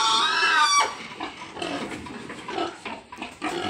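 Pigs on a farm grunting and oinking in short, irregular bursts close by, with a higher squeal at the start.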